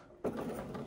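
A sewing machine stitching a seam on pants starts abruptly and runs as a steady mechanical whir for under a second, close and fairly loud, with no talking.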